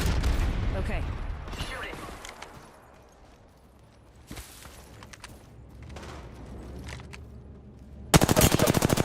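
Gunfire in an online shooter video game: bursts of automatic fire rattle through the mix, with a sharp loud volley near the end, while a player talks over the action.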